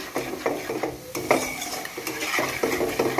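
Cream is stirred hard in a pot over high heat as it cooks down into ghee, with a spoon scraping and clattering against the metal in an uneven rhythm over a faint bubbling sizzle, close by and without talk.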